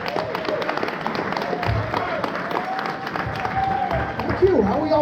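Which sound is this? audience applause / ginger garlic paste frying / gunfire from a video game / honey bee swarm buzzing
audience applause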